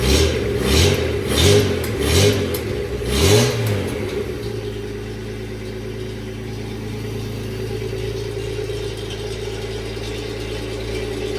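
A Mini car engine fitted with new spark plugs revs hard in several quick bursts, then drops to a steady, rough idle that hums on to the end.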